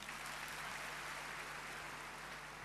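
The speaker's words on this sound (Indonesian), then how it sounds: "Tepuk tangan untuk Tuhan." A church congregation claps together in steady, dense applause that holds at an even level throughout, sounding somewhat distant and quiet, with no voices rising above it.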